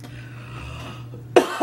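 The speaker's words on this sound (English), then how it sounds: "I'm sorry I keep coughing" One sharp cough near the end, after a stretch of quiet low hum.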